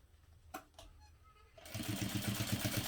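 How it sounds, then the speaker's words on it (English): A sewing machine stitching the handle of a fabric tote bag runs steadily and close for the last second and a half, after a couple of faint clicks and quiet handling. "And back stitch down the length of the handle facing on the other side."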